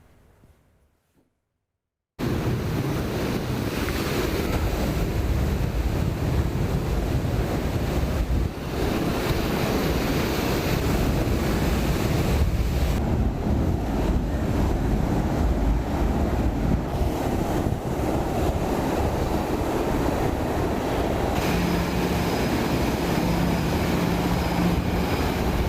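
Rough Bay of Bengal sea off Nagapattinam, with heavy surf crashing continuously and strong wind roaring across the microphone, a loud steady wash of water and gusts that starts abruptly and holds for the length of the clip.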